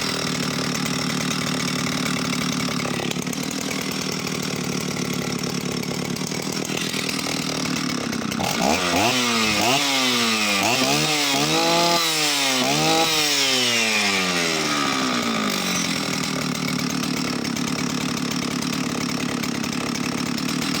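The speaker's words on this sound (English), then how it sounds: "Let me show it on a restart and I'll do a walk around with the camera." An Oleo Mac 272 67cc professional chainsaw powerhead runs loud and close with a steady engine drone, then blips through a series of rising and falling revs before settling back to a constant run.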